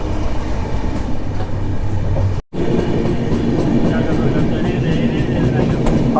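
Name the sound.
Garib Rath Express passenger train running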